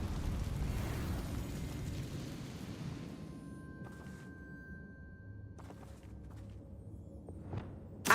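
A Confringo fire spell blasting in Hogwarts Legacy: a loud, rumbling eruption that swells and then fades into quieter low noise, with a sharp pop near the end.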